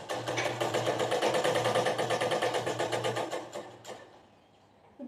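Sewing machine running steadily for about four seconds as it stitches along the folded edge of a baby frock, a fast even whirr close up, then slowing and stopping.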